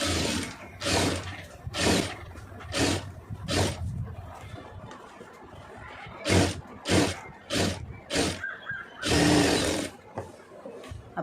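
A sewing machine stitches a sleeve onto a garment, joining the sleeve to the neck piece, in repeated short bursts of whirring with brief pauses between runs, close and clear.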